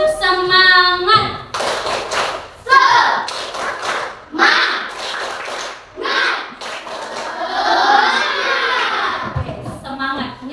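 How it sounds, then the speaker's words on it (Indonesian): A classroom of children performs a rhythmic clapping cheer, bursts of patterned hand claps alternating with chanted, shouted voices in short sections, loud and close. "Oke, tepuk semangat."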